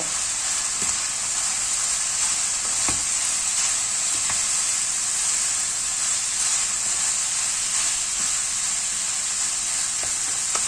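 Potato stuffing mixture being stirred in a pan, a continuous bright sizzling hiss with occasional soft scraping strokes underneath, close and steady, no voices.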